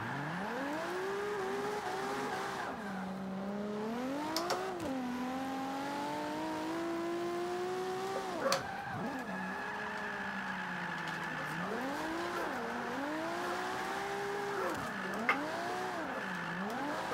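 Racing engine of a BMW E46 drifting in Forza 5, revs sweeping up and down as the car slides, with sharp gear shifts and tire squeal woven through a steady, close, continuous drone.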